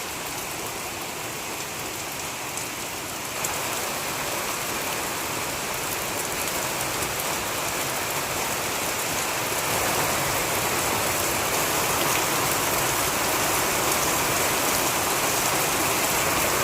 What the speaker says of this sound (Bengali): মনে হচ্ছে আজকে বৃষ্টি থামবে না